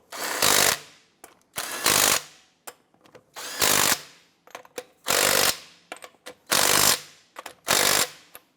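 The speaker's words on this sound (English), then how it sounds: "Torque down your lug nuts to 140 foot-pounds." A ratchet wrench snugs down the front wheel lug nuts on a 2015-2020 Cadillac Escalade, with about seven bursts of rapid clicking separated by short pauses and faint clinks, close and clear.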